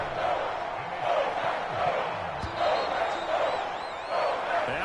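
Stadium crowd noise in an EA Sports football video game on PS4, a dense, continuous roar of cheering fans that swells in waves, with faint voices mixed underneath.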